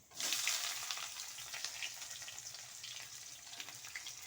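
Chopped onions sizzle in hot oil tempered with bay leaf, a steady, close frying hiss that continues throughout with light stirring and no talk.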